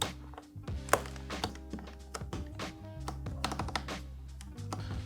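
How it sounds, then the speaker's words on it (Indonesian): Accent keycaps are pressed onto a RUF Serra68 mechanical keyboard, giving a quick series of sharp clicks and hollow taps, close and clear, with irregular spacing and a few louder snaps, with no talking. "gua coba pengen pasang accent keycaps-nya ke sini buat ngasih lihat ke kalian aja kira-kira kayak gimana nih jadinya"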